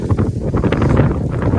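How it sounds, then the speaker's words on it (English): Outdoor wind in rustic woodland buffets the microphone, producing a continuous loud rumbling roar with gusty surges and no talking. "oh, it's windy here, so I think it's going to affect the sound."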